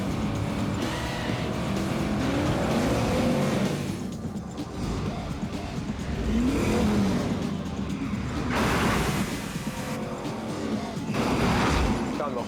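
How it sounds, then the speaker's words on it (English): Car chase from the film Gone in 60 Seconds: engines roar and rev continuously with rising and falling surges, loud and dense, mixed with tire and crash-like noise and action score throughout. "he's got a very, very exciting car chase"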